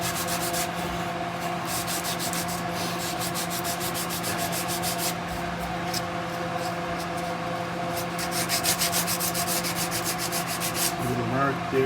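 Glue being sanded off a carved wooden guitar neck: steady, rhythmic back-and-forth rasping strokes, close and continuous, growing a little more vigorous toward the end.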